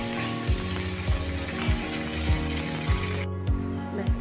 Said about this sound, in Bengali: মাথার এক পিঠ ভাজা হয়ে গেছে, এবার অন্য পিঠ উল্টে দেবো